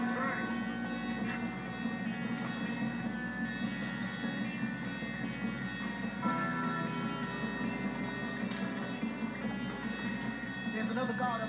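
Train rolling along in the Red Dead Redemption 2 video game, a steady rumbling, clattering run that continues throughout under in-game music, with voices speaking over it.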